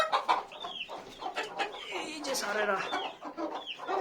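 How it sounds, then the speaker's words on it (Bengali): Native chickens kept in a cage on a house rooftop cluck repeatedly at close range, with someone talking briefly over them. "এর ভিতরে মূলত মুরগি পালি আমি।"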